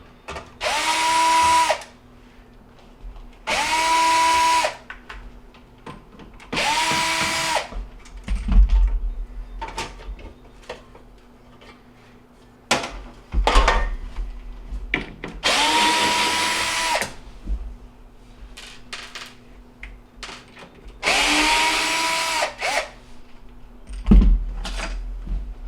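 A power drill backs hidden screws out of the trim piece on a Whirlpool oven, sounding as five short, loud whirring bursts spaced a few seconds apart, with clunks and handling noise in between.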